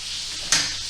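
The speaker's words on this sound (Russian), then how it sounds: "Блинчики жарятся." Pancakes fry in a pan with a steady, bright sizzle and a short louder crackle partway through, with no talk.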